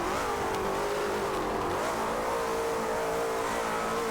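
Two supercars, a Ferrari 812 Superfast and a Ferrari Enzo, race in a video game, their engines droning steadily and loud throughout with rising and falling revs, no voices over them.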